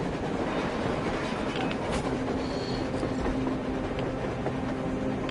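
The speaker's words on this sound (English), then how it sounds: "A train! A damn train on the surface!" A train rumbles past on the surface in a video game, a steady loud roar with wheel clatter and a faint squeal, with no pause throughout.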